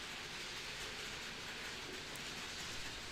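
Model railway Intercity HST running round a bend on a layout, a steady low rumble with faint rolling clatter throughout, fairly quiet and even, no talking.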